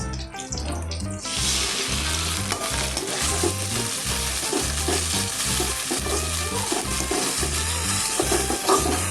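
Onions, green chillies, ginger and garlic sauté in a pan for a country chicken fry, a broad hissing sizzle rising after the first second and continuing beneath a loud, regularly pulsing rhythmic backing beat.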